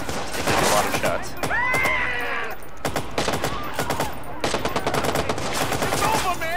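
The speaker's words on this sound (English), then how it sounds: "He's taking a lot of shots." Rapid bursts of gunfire in the Watch Dogs video game, with loud clustered shots and automatic fire continuing almost throughout, mixed with other game effects and a voice talking over it.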